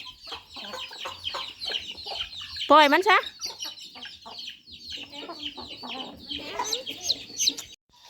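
Chickens cluck close by in a farmyard, with repeated short clucks and a louder squawk, while children and an adult speak intermittently over them.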